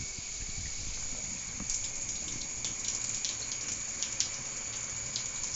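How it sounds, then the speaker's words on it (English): Tap water pours steadily into a large aquarium tank, giving a continuous hissing gush with faint splashy variations, fairly quiet and unbroken throughout. "Because I have quite a large tank, it takes some time to fill up."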